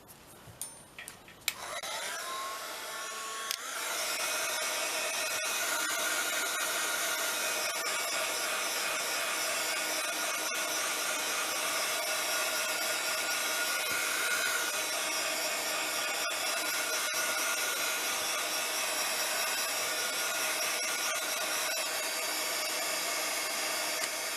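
A hair dryer dries a fabric-covered craft journal project. Its steady whining roar starts after a few seconds of small handling clicks and runs loud and unbroken to the end, close up, with no voices.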